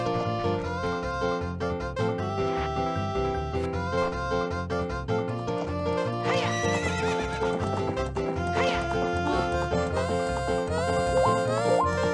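A horse in the video game Zelda: Ocarina of Time repeatedly neighs and whinnies with clip-clopping hooves over continuous loud game music.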